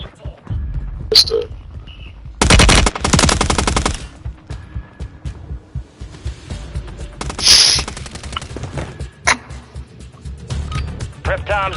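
Rapid bursts of automatic gunfire in a war zone video game, loud and sustained in a couple of long volleys, with scattered shots and game effects around them and voices talking over the action.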